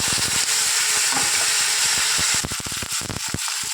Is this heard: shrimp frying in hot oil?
yes